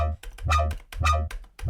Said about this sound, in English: Next, we have a chorus, which is kind of doing a similar effect too